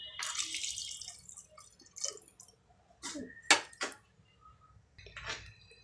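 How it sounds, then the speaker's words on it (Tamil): Water poured into a pan of sautéed green peas in a home kitchen, with scattered splashes, drips and metallic clinks of the pan and utensils arriving in short bursts between quiet gaps. "நான் தண்ணி ஊற்றியாச்சு"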